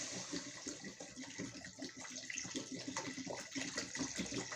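Water poured from a 1.5-litre bottle into a soup pot, a steady faint splashing gush that runs continuously without a break.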